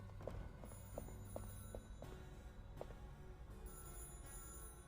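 A telephone rings in the video game Beholder 3, a quiet repeated electronic ring with short bright chimes over a low ambient game backdrop, no voices.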